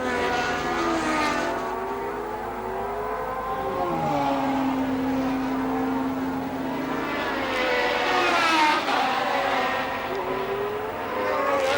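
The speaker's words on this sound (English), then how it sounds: "accelerating again up the hill to the back chicane" A 1988 Formula 1 car accelerates uphill toward the back chicane at Imola, its high-pitched engine climbing through the gears with a clear shift midway, screaming steadily and fairly close throughout.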